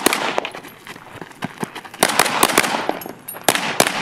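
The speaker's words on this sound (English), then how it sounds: "Here's live fire." Live gunfire at shooting practice, with a rapid, irregular series of sharp, loud shots and some quick doubles, fired close by with no pauses for talk.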